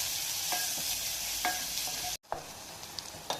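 Chopped onions fry in a pan for a North Karnataka alasandi sandige palya, a steady sizzle broken by a few spatula scrapes and a brief cut near the end.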